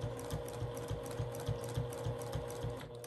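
A sewing machine doing free motion quilting, its needle thumping in a quick, steady rhythm over a constant motor hum, close and moderately loud, with no voices.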